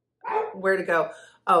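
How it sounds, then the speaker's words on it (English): Dogs bark in short bursts in the background of a room, overlapping and alternating with a woman's conversational speech. "Sorry about the dogs."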